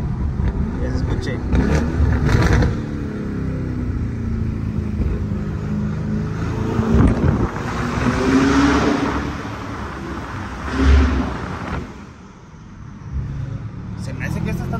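A 2024 Lamborghini Urus drives along a road, its engine rising and accelerating with a couple of stronger surges. People talk over the engine noise throughout.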